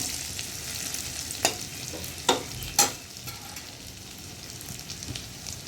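Onions frying in a pan with ginger-garlic paste, a steady bright sizzle broken by a few sharp stirring scrapes and clinks, close and alone with no talk.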